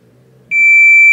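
A Fluke multimeter gives a loud, steady, high continuity-test beep that starts abruptly and holds for under a second while probing a Samsung IPM module, following a faint murmur.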